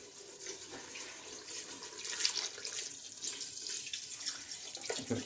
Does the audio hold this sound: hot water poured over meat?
yes